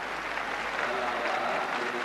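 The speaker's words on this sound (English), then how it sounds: "quite an excited crowd down at the far end of the stadium" An excited stadium crowd during a decathlon pole vault, a steady wash of distant cheering and applause with a commentator talking over it.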